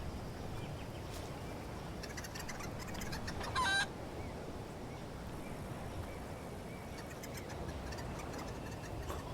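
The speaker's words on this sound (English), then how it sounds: "can I pick up a chicken and throw it at someone?" Chickens clucking in the video game Crysis Remastered, a steady run of soft fowl calls over constant ambient game noise, with no talking.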